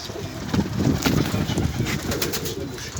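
Domestic pigeons coo close by in a steady, overlapping stream of low throaty calls, with faint rustling and no talk.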